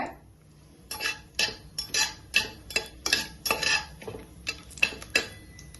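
Whole cinnamon, cloves and cardamom stirred into hot ghee in a pan, with about a dozen distinct metallic clinks and scrapes of a spoon against the vessel, close and fairly crisp, with no talking over them.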